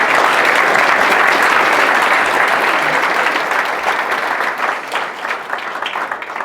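A conference crowd at an eCommerce event gives sustained applause, a broad, steady roar of many hands that gradually thins and turns more scattered toward the end.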